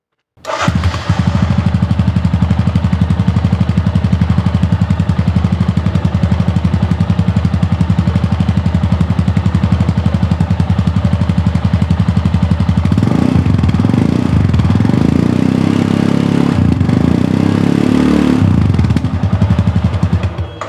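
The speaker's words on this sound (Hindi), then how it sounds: "बाइक को ऑन कर लेते हैं, स्टार्ट कर लेते हैं, एंड देन आपको इस बाइक का एग्जॉस्ट नोट सुनाता हूँ मैं।" A Royal Enfield Scram 440 motorcycle exhaust burbles at a loud, steady idle close by, then rises through several throttle blips and revs before settling back to idle.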